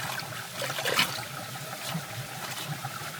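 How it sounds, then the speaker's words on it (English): A forest stream in a Vietnamese rainforest runs steadily, a continuous close-up trickle and splash of water with a brief louder gurgle near the start, and no voices. "the sound of running water keeps the whole morning"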